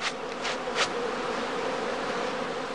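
Swarming honeybees pour out of straw skeps on a bee farm during swarming season, a dense continuous buzzing hum close by, with a few louder passes as single bees fly near.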